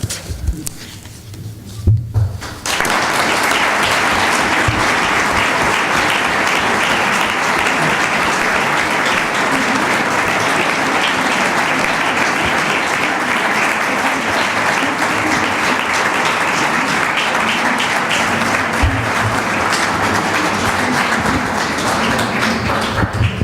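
Sustained audience applause fills a hall after a poetry reading at a national poetry and wine event, starting abruptly after a short quiet moment and staying dense and even for about twenty seconds.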